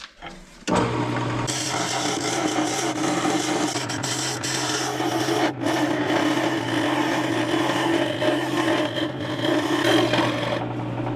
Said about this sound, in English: that hole should be big enough for me to use my carbide cutter and get in there